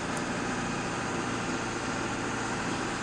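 A stock-exhaust Ford 7.3 Powerstroke diesel runs steadily, a constant low rumble with a broad even hiss over it, no rise or fall in revs, heard close and without talk.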